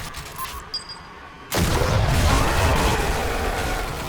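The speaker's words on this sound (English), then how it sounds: "There's a really beautiful explosion that occurs as each round impacts" Explosive rounds burst on impact in the Stellar Blade video game, a sudden loud blast that kicks in partway through and rolls on as a sustained, dense roar of explosions.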